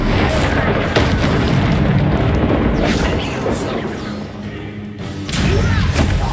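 A Confringo fire spell is cast in the Hogwarts Legacy PC game, setting off a loud, booming blast with a heavy rumbling tail, followed by another burst, with a game character's voice speaking over it.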